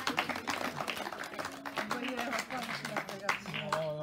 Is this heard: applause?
yes